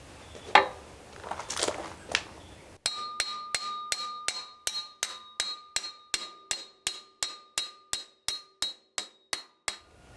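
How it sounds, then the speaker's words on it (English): A metal hammer taps a bolt into a hydraulic thumb bracket on a mini excavator in a steady series of about eighteen sharp strikes, each with a bright metallic ring, preceded by some rustling handling noise. "I'm going to use the hammer to tap it into place"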